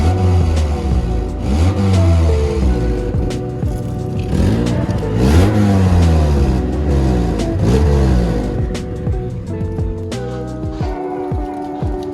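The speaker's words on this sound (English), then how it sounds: "this is what the exhaust sound like right now." The exhaust of a Nissan S13 fitted with ISR blast pipes revs loudly and close up, rising and falling in repeated sharp bursts across the whole stretch, with no talk.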